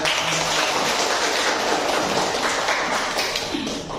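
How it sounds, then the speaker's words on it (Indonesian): Classroom applause from students, a dense, even burst of many hands clapping together that stays at a constant level and eases off slightly toward the end. "tepuk tangan."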